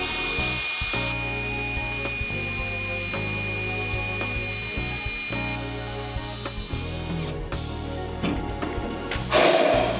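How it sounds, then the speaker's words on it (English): A power drill bores a hole into the engine block of a 540 big block V8 in a C10 longbed pickup, a sustained whining drone with a steady tone and intermittent bites and pauses, close and alone. "drilled the hole. That part's over."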